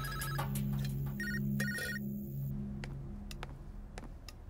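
A telephone rings in two short bursts of an electronic bell tone, followed by scattered clicks and ticks in a quiet room; no one speaks.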